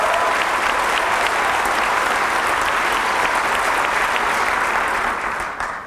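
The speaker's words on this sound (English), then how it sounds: "Let's give Cheryl a round of applause." Audience applause at an evening equity and excellence lecture at Olympic College, a steady dense wash of clapping from a large crowd filling the whole stretch, loud and even before tapering slightly at the end, with no talk over it.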